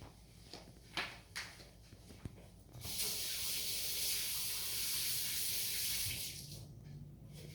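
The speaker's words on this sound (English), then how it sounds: "Let me get my hands a quick wash." Kitchen faucet runs steadily into a sink for a hand wash, a broad even rush of water starting after a few soft knocks and continuing about four seconds before easing off.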